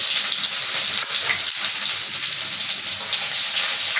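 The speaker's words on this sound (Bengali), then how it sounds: "আমি এখন শুকনা মরিচটা দিয়ে দেব তেলটা গরম হয়ে গেছে এখন আমি জিরে দিয়ে দেব তেজপাতা দিয়ে দেব পেঁয়াজ আর রসুন কুচি দিয়ে দেব" Dried red chilli, cumin, bay leaf, chopped onion and garlic fry in hot oil for a prawn and bottle gourd dish, a loud, steady crackling sizzle filling the whole stretch with faint stirring.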